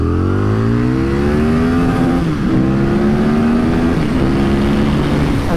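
A twenty-year-old Aprilia RSV Mille V-twin motorcycle accelerates hard through several gears, its loud, close engine note climbing in pitch, dipping briefly at each shift, then rising again.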